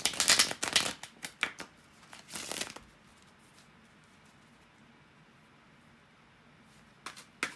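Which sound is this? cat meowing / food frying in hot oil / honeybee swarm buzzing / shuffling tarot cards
shuffling tarot cards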